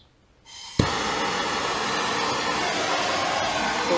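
A torch heating hardened steel centre brackets comes on after a brief quiet moment with a soft pop, then settles into a steady, close, roaring hiss that continues to the end.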